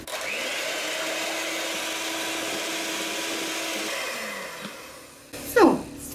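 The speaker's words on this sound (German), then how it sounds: "werden wir Eiweiß steif schlagen mit einer Prise Salz" An electric mixer whips egg whites with a pinch of salt until stiff, a steady close motor whir lasting about five seconds, then slowing and stopping, followed by a brief clatter.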